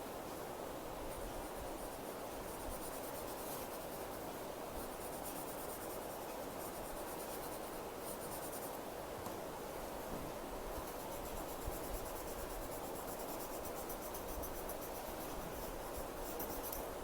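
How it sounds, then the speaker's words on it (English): Steady pencil strokes rub across paper while a Zentangle pattern is shaded, a soft continuous scratching that stays close and even for the whole stretch, with no talking. "I am going to add my pencil just on one side of Pixoe"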